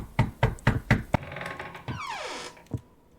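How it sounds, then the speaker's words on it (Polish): Five heavy, evenly spaced knocks pound on a door in the video game Border Officer, followed by a ringing, descending tone, a faint hiss and one last soft thud. "kto się tak dobija do drzwi?"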